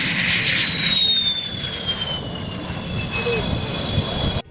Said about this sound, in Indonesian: Nice, ternyata jet tempur.